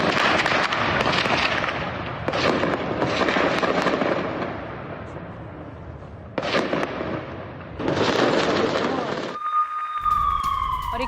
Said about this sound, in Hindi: जहां के हेब्रोन की तस्वीरें जहां पर फायरिंग हुई है, और जरा आप फायरिंग की आवाज सुनिए